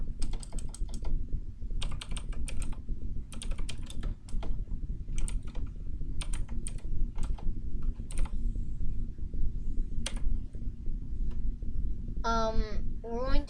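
Rapid bursts of typing on a computer keyboard while writing code, clattering clicks in clusters with short pauses, close and steady, over a low background hum, with a brief chirpy sound near the end.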